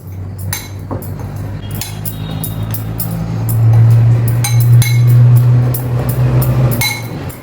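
Repeated light clinks and scrapes of a utensil against a bowl as paniyaram batter with salt and baking soda is stirred, over a steady low hum.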